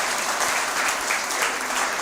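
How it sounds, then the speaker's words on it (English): Steady, dense applause from a conference audience at a tech design event, an even wash of many hands clapping throughout. "So you should give a round of applause to me."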